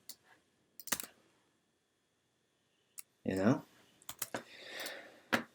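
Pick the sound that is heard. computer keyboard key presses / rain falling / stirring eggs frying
computer keyboard key presses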